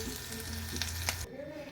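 Red chillies frying in oil in a pan, a steady close sizzle with a couple of brief clinks, cutting off abruptly near the end as the stove is switched off.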